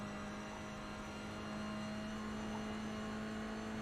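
A race car engine in the iRacing simulator, lapping the Nordschleife, drones steadily with a constant tonal hum that stays fairly loud and even throughout, with no talk over it.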